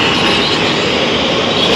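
Inside a moving passenger train there is a steady, loud rumble with rattling, hissing rail noise that carries on without a break.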